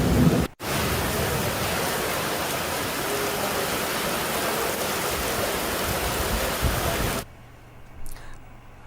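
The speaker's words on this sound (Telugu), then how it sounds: "ఇటు సైబరాబాద్ పరిధిలో కూడా కుండపోత వానం పడుతుంది" Heavy rain pours down in Hyderabad during a storm, a loud, steady wash of downpour that cuts off abruptly near the end, leaving faint background sound.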